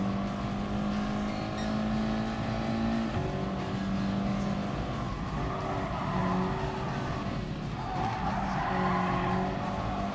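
Racing car in Gran Turismo Sport braking hard, its tires skidding and squealing under steady engine drone, with tonal screech bands rising and shifting across the whole stretch, loud and continuous.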